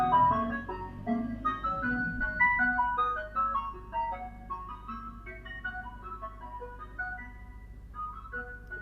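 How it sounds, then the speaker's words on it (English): An ice cream truck passing outside plays its tinkling melody, a bright chiming tune heard through a window at moderate distance, fading slightly as it goes, with no talk over it. "there's an ice cream truck outside"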